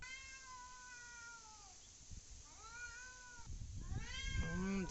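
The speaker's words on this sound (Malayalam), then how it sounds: "ദേഷ്യം പിടിക്കണ പൂച്ചയാണ്" An angry cat gives several drawn-out, whining meows that bend in pitch, close by, ending in a louder, harsh yowl over faint background noise.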